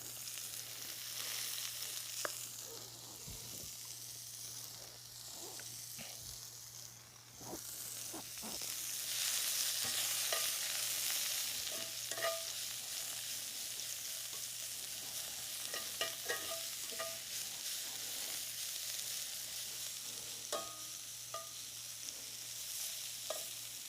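Chopped garlic and shallots, with one whole shallot, sizzle steadily in a pan during a cooking demonstration, a continuous close frying hiss with occasional pops and stirring clinks, no talk.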